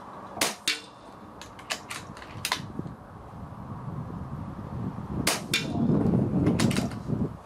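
An ATA Arms Airborne .22 air rifle gives several sharp, close cracks: a cluster early on, then a pair later, with some mechanical clicks in between and a low background rumble.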